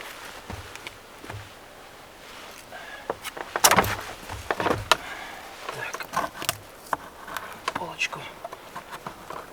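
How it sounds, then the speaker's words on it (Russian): Mosquitoes buzz inside a wooden hut, a thin whine under intermittent knocks and clatter of someone moving about, and someone speaks now and then. "Комарики появились."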